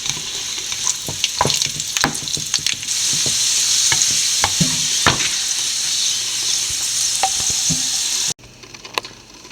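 Raisins frying in hot ghee and oil for an egg biryani garnish: a bright, steady sizzle with scattered spoon stirs and taps against the pan, ending in quieter clinks.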